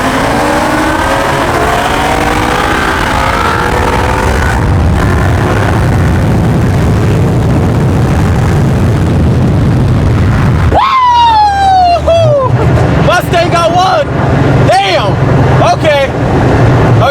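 Built Ford Mustang and McLaren cars launch in a drag race at low RPM, loud engine roar and rising revs building, with a sharp gear-change whine and pitch sweeps in the second half.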